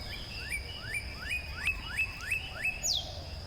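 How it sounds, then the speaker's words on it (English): A video game's ambient bird sound repeats a rising whistled call about seven times in an even rhythm, ending with a sharper descending note, over a quiet background hum. "it's whatever the bird sounds are on the ambient speakers in the game"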